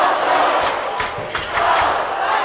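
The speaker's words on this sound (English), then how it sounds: "This is a very loud crowd out here" A loud high school volleyball crowd roars and chants in a gym, with steady cheering punctuated by a few thumps, close and dense throughout.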